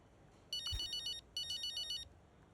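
A bright electronic phone ringtone in the video game F1 25 plays in two short bursts with a brief pause between, clear and close, no voices.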